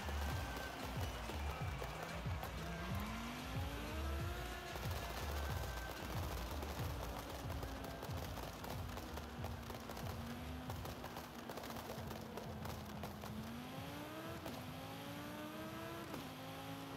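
Audi RS6 from 2021 fitted with a V10 engine and driven in the racing game Forza Horizon 5, its engine roaring continuously and rising through gear changes, with rapid crackling from the exhaust.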